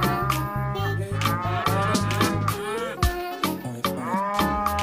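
Yellow beef cattle lowing repeatedly and loudly at close range, a series of deep, drawn-out moos in quick succession with some higher calls, and no talk over them.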